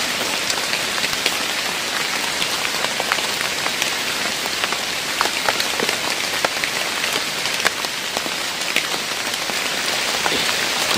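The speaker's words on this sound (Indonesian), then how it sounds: "Masih lama makin deras hujan nih." Heavy rain pours steadily on a camping trip, a dense, continuous hiss of drops hitting the surface with scattered louder splats, close and unbroken with no voices.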